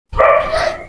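A dog at night near a cemetery barks once, loud and close, a single sustained bark that fills the short moment on its own.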